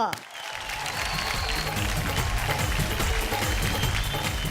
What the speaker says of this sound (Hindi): तो जोरदार तालियों के साथ स्वागत कीजिए जीतू शिवहरे उर्फ गधा प्रसाद जी का।